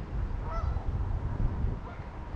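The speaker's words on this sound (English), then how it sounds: "And the geese." Geese honking at a cemetery beside the Des Plaines River, a couple of distant, faint calls over steady low outdoor rumble and wind.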